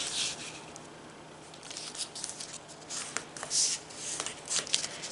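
Origami paper for a spiral fidget toy is folded and creased by hand, giving soft, close rustles and sharp crinkly snaps at an irregular pace.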